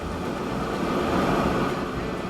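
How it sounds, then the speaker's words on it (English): A train rolling along in the railroad tycoon game Transport Fever 2, a steady loud rumble with a dense wash of rail noise that holds evenly throughout, with no talking over it. "That train is so cool."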